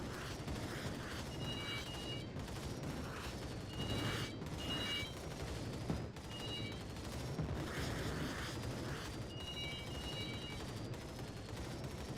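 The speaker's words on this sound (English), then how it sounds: "Well, it fired a few shots." Weapon shots in the Arcade Paradise video game: repeated bursts of rapid fire come in clusters over a busy background of game noise and mechanical clatter, moderately loud throughout.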